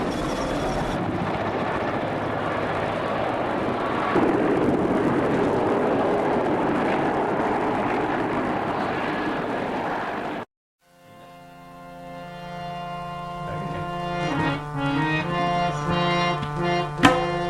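A steady, loud mechanical roar of a helicopter at a heliport in Afghanistan fills the first ten seconds, then cuts out and gives way to a quieter hum with rising whining tones.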